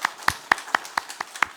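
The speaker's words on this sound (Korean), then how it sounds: "박수하겠습니다." During a Sunday morning church service, sharp hand claps ring out in an even, quick rhythm, about seven in under two seconds, close and distinct.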